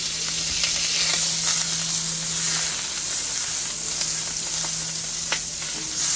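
About a quarter stick of butter sizzles in a frying pan with a dense, even crackle and occasional pops and stir clicks, close up and continuous, with a low steady hum beneath and no talking.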